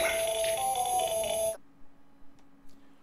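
Hartman's codec ringtone from the video game Death Stranding plays as a bright, tonal electronic melody with sustained notes. It cuts off abruptly after about a second and a half, leaving only faint low hum.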